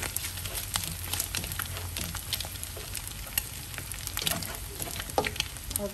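Chopped garlic fries in a pan until golden, a close, steady crackling sizzle with scattered pops and faint stirring throughout.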